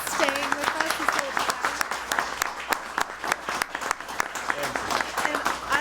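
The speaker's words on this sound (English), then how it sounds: "Can we give Senator O'Connor and Representative DeCose a special round of applause for staying with us this whole" Round of applause at a conference for visiting legislators, a dense wash of many hands clapping steadily throughout, moderately loud with scattered voices in the room.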